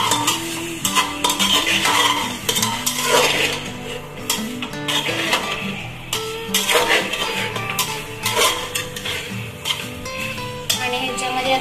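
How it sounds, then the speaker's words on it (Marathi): Cauliflower and other vegetables frying in oil for pulao, stirred with a spoon that clatters and scrapes against the pot over a steady sizzle, with faint background sounds throughout. "सर्व भाजी आपल्याला ना तेलामध्ये शिजवून घ्यायच्या चांगल्या 5 मिनिटं"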